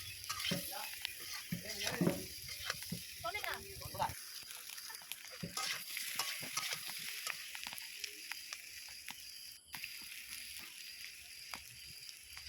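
Boiled potatoes and eggs stir-fried in a pan, with a soft sizzle and scraping stirs and knocks under a person talking at first, then quieter frying with sporadic utensil taps.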